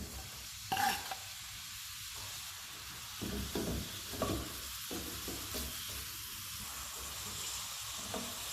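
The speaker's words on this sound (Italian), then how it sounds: "Metto un bel giro d'olio e aggiungo la cipolla." Onion frying in olive oil in a pan on the stove, a steady sizzle with soft crackles and occasional stirring scrapes, close and moderately loud, no talking.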